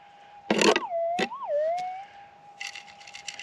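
A metal detector sounds off over a small BB target while hunting for gold nuggets. It gives a steady, moderately loud electronic tone that bends and warbles for a moment, with short bursts of scraping noise around it.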